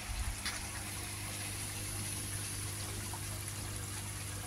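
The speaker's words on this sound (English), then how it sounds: "The old shower's running well" Koi pond filter shower pouring running water, a steady continuous splashing hiss with a low constant hum beneath, unbroken throughout.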